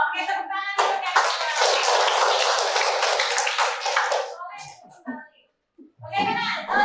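A class of vocational school students clapping hands together, a loud dense burst of applause lasting about three seconds that fades out, framed by a teacher's voice talking before and after.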